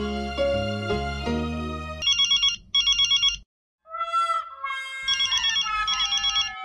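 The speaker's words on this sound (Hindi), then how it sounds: "आपका फोन बज रहा है" A phone ringtone plays: a melodic electronic tune followed by repeated bright chirping rings with a brief silent gap, loud and close, no talking.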